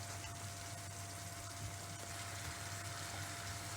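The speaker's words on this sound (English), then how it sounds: "I'm adding another half a glass of water" Water pours steadily into a pan of Cajun prawns as they cook, a faint continuous gushing and running-water sound without breaks or talking.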